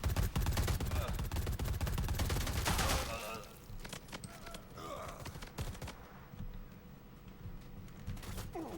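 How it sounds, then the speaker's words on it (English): Rapid gunfire bursts in the video game Predator: Hunting Grounds, loud sustained shooting for the first few seconds, then sparser scattered shots with someone talking. "I'm not sure why we're shooting these guys"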